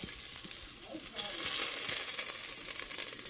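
Beaver meat frying in hot bacon grease, a close, continuous crackling sizzle with popping spatter that swells slightly partway through, no talk over it.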